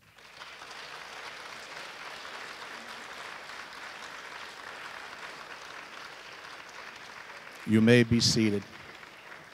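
Sustained audience applause for parents fills a high school athletic awards ceremony, steady and moderately loud for several seconds before dying away as a voice speaks briefly at a microphone.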